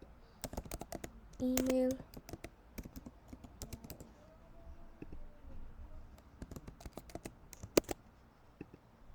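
Rapid, close keystrokes on a computer keyboard fill a name and email into a sign-up form, with a brief electronic beep partway through and one sharp click near the end, and a voice speaks briefly.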